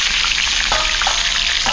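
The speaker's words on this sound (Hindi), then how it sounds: "और एक बार इसको चला दे रहे हैं।" Eggplant sizzling in a pan with potato rounds as it is stirred, a steady loud frying hiss with a few scraping spatula knocks, no talking.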